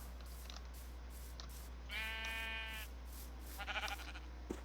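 A single Minecraft sheep bleats once in a wavering call, followed by a fainter second bleat, over a quiet low background hum.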